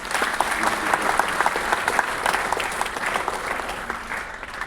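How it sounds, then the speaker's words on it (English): A hall audience gives a sustained round of applause at a university talk on women's achievement, dense steady clapping throughout with no speech over it. "I expect a big round of applause."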